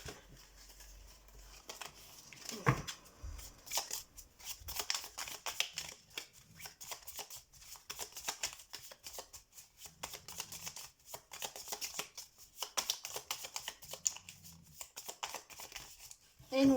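Tarot cards are shuffled in quick, dry riffling bursts, close and crisp, repeating through the stretch with brief pauses and soft handling noises between.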